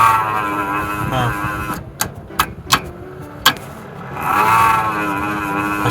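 A PC CPU fan rattling and catching as it spins, with a steady whirring hum broken by four sharp clicking knocks in the middle, up close and fairly loud, with no talk over it.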